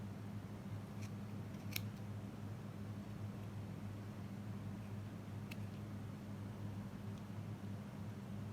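Scissors cut yarn on a crocheted baby rollerskate bootie, giving a couple of faint, brief snips over a quiet, steady background hiss.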